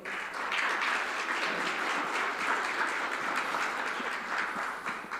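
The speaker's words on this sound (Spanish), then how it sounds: "le damos un fuerte aplauso al Señor." A church congregation claps together in sustained, dense applause for several seconds, a bright even clatter that fades slightly at the end.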